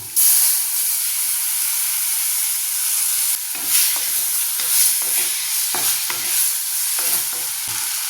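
Tomatoes for a lentil sambar hit hot oil in a pan, giving a constant bright sizzle and hiss broken by scraping stirs and soft knocks, with no speech.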